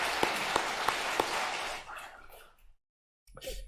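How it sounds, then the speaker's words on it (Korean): A church congregation applauding, a steady patter of many hands clapping at moderate distance with a few sharp claps on top, fading out into a brief silence before a new sound starts. "감사하다고 박수 한번 하겠습니다"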